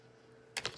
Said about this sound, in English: I'm going to take my scissors, I'm going to snip it off so it's clean.